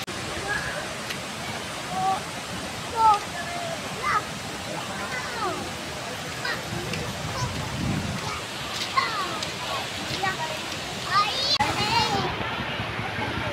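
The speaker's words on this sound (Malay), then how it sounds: "Kita dah nampak dah air terjunnya." Waterfall at Bentong, Pahang, a steady broadband rush of falling water that runs throughout, with scattered voices, including children, talking over it.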